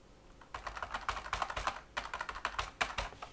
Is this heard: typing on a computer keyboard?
yes